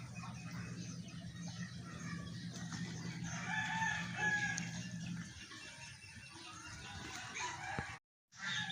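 Chickens clucking and a rooster crowing outdoors near a truck where birds are arriving, the calls faint and somewhat distant over a low steady hum that cuts out briefly near the end.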